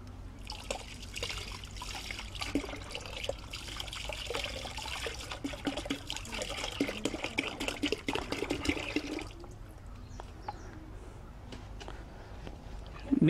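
Sugarcane juice, about three quarters of a litre, trickles and pours steadily into a panchagavya mixture, close and moderately loud for about nine seconds before tapering off, with faint voices in the background.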